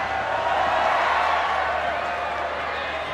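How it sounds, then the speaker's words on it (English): Stadium crowd at a U-20 women's football match between Germany and France gives a sustained burst of applause and cheering, a dense wash of clapping and voices throughout. "The crowd really appreciating the skills of Karshawi"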